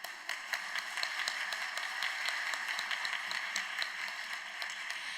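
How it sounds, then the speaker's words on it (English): A conference audience at a women's peace conference gives a round of applause, steady dense clapping that holds at a moderate level throughout, somewhat distant. "Let's give them a round of applause."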